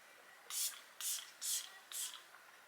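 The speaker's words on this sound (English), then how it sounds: "I am going to use my Milk Makeup setting spray." Four quick hissing spritzes from a Milk Makeup Set and Refresh setting spray bottle, evenly spaced about half a second apart, close and crisp in a quiet room.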